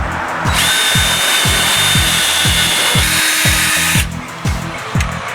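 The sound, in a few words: power drill enlarging a hole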